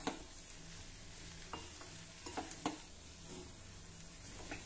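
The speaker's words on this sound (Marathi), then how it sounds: "आता आपण हे सर्व व्यवस्थित मिक्स करून घेऊ" Stuffing with salt and coriander being mixed in a pan for stuffed capsicum, giving soft scraping spoon strokes and a few light clicks over a faint steady hiss, close and quiet.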